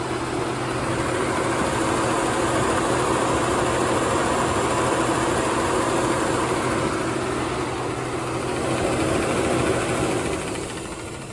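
A 2003 Corvette engine idles steadily, heard up close at the belt, with a continuous mechanical whir and faint ticking over a low, even drone. No voices.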